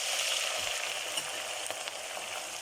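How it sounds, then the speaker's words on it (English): Onions frying in oil in a home fryer during chicken biryani prep, a steady close broadband sizzle and crackle with no speech. "It's time now to fry the onions."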